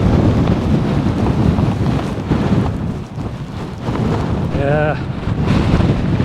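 Steady gusty wind on a Scottish mountain, Beinn Heasgarnich, buffets the microphone in a continuous low roar, with a brief whistling tone partway through.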